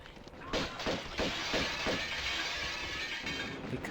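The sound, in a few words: glass breaking in video game Tomb Raider 2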